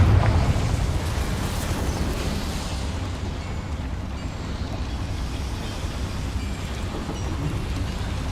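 Confringo fire spell in Hogwarts Legacy gameplay, heard as a steady, roaring blast of rumbling noise that holds for several seconds with no voice over it.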